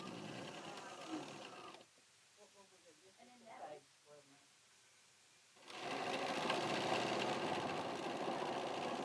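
A sewing machine stitches quilt triangles with a quarter-inch seam, its fast steady whir running loud at the start, pausing while someone talks, then resuming strongly.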